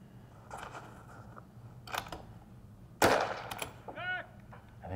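Gunshots during a timed shooting run, a few sharp reports spaced apart at close range, with a louder crack near the end and quiet outdoor ambience between them.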